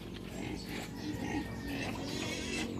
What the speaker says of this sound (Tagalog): Itong alaga kong baboy ay pwede nang ibenta.